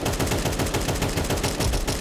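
Rapid automatic gunfire from the video game Counter-Strike 2, a dense, loud, continuous burst of shots with no talking over it.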